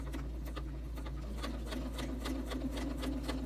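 A domestic sewing machine quilts a straight line guided by a ruler, with the feed dogs off, producing a continuous close whir with soft, rapid needle ticks and no speech.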